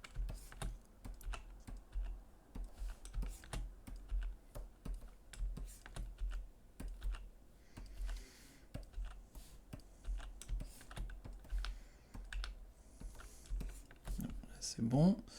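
Keys clack steadily on a computer keyboard while drawing in Toon Boom animation software, producing soft, close, irregular taps and presses that run throughout, with faint speech in the background.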